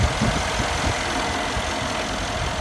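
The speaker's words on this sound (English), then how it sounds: "So I have got both of the cars running for you already, as promised." A Mercedes-Benz G63 AMG with a hand-built AMG engine idles with a steady low rumble and broad, even hiss, loud and close with no talk over it.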